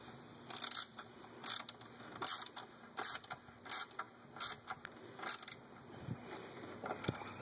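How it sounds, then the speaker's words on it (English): Socket wrench tightening an ignition coil bolt on a 2001 Ford F150, a run of quick, close ratcheting clicks in short repeated bursts with brief pauses between strokes. "I'm going to put my 9/32 socket back on there and just tighten it up."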